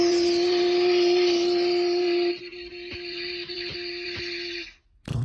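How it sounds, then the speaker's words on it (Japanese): A hand spray bottle mist sprayer being squeezed, giving a steady hissing spray with a tonal whine, then a few quick separate puffs and a short burst at the end, close and fairly quiet, with no talking. "いやいや、違う、実際に霧吹きの音なんですよ。"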